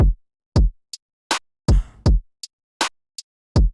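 A programmed hip hop R&B drum pattern in FL Studio mixes booming kicks, snappy snares and quick hi-hat ticks in a steady, loud groove with no backing instruments.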